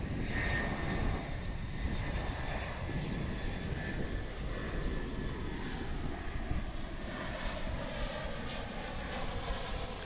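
An American Airlines jet, flight 2286 from Monterrey, Mexico, at DFW International Airport produces a steady, broad engine roar that holds for the full ten seconds at moderate distance, with no talk in the clip.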